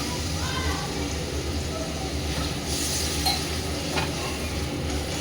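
Spice paste of ground dried red chilli being sautéed and stirred in a pan, a low steady sizzle with faint scraping and an occasional clink, fairly quiet throughout.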